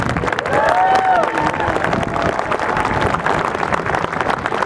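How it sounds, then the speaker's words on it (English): Audience applause at a Vietnamese memorial commemoration, a dense wash of clapping with some crowd noise throughout, a brief tonal voice-like sound near the start. "Let's give them both another round of applause."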